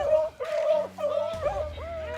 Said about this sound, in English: the first one hit the scent and give that certain bark